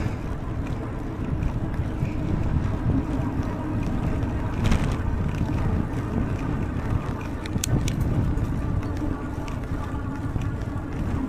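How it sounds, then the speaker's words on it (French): Risen wind buffeting the microphone on an outdoor ride during La Pannecéenne near Pannecé, a continuous low rumble with slight surges, fairly loud and steady for the whole stretch. "Malgré le vent, ça va."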